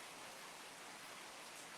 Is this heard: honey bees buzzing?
no